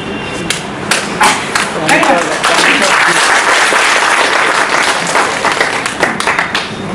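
Audience applause at a hypnotism session, broad steady clapping that swells and holds for several seconds, with some speech mixed in.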